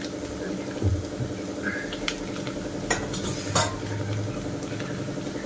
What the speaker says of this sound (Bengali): তো দেখো কত সুন্দর হয়ে গেছে, লাল লাল হয়ে আসছে আর ফুলে যাচ্ছে দেখো মিষ্টিগুলো।